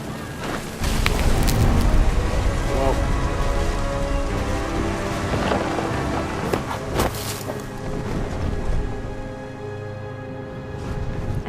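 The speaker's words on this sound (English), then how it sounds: "The thunder sounded much too close and full of angry power" A storm scene in the video game What Remains of Edith Finch brings heavy, steady rain hissing and pattering without pause, loud and close, with no voices.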